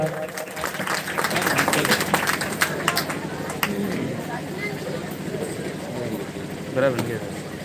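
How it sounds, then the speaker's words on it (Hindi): Audience applause breaks out at a Hindi-language stage event, a dense patter of many hands clapping loudly, slightly rising and then tapering, with voices mixed in. "जोरदार तालियां हो जाए एक बार।"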